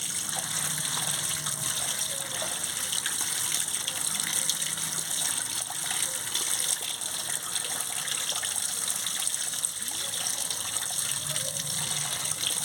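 Tap water runs in a steady, continuous gush while spinach and taro are washed, a constant splashing wash of sound with no voices.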